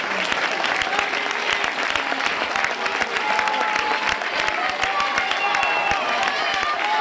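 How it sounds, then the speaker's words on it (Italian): Steady applause from the spectators at the Gavardo athletics meeting during a women's 800 m race, a continuous dense clapping that holds at even loudness throughout with faint voices mixed in. "con l'applauso di Gavardo"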